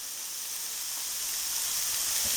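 Onions fry in a cast iron skillet with a steady, bright sizzle that holds evenly and close throughout, with no voices over it.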